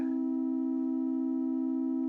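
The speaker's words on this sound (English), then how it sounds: "There's some FM on a sine wave" A steady FM sine wave synthesizer tone from VCV Rack, a single sustained pitch with faint overtones that holds unchanged and fairly loud throughout, with no voices.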